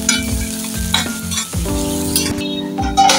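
Onions and finely chopped green chillies fry in hot oil for a Pitru Paksha thali, a steady loud sizzle broken by repeated scraping stirs of a spoon against the pan.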